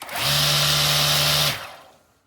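A repaired Revolut cordless battery grass trimmer motor whirs up to speed, holds a loud, steady high-pitched whine for over a second, then cuts off and spins down, with no talking.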